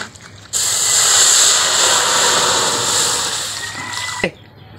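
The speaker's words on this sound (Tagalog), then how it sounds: "Lagyan na po natin ng tubig" Water gushes steadily into a cooking pot for rice porridge with egg, a loud continuous splashing pour that starts abruptly, runs for several seconds and stops with a small clunk.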